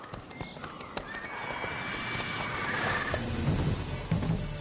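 In The Witcher 3, the horse Roach gives a drawn-out whinny over clip-clopping hooves, with a rising gallop-like rumble building toward the end.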